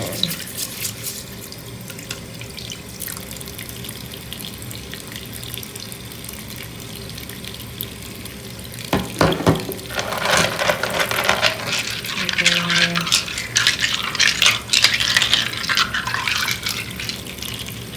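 Tap water runs steadily into a sink while crystals are washed, a continuous rushing flow that turns splashier and busier partway through as items are rinsed under it.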